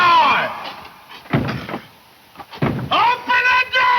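A wooden door slams shut with a heavy thud twice in a classic 1952 fantasy comedy, the impacts separated by shouting voices calling out loudly before and after them.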